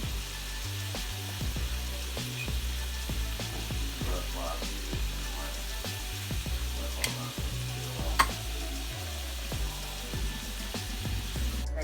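Venison deer heart sizzles steadily in a hot pan, a constant close frying hiss with faint stirring scrapes and a sharp clink or two, no talking.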